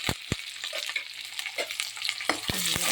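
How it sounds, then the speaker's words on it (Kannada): Mustard seeds splutter and pop in hot oil for a tempering in a raw-banana sambar, with sharp crackles scattered across the pan over a steady low sizzle, close and with no voices. "ಇವಾಗ ಸಾಸಿವೆ ಚಟಪಟ ಅಂತ ಇದೆ"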